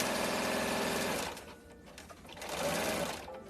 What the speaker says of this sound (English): I wanted to serge that real fast, just so that everything, when I press the seam open, everything can kind of match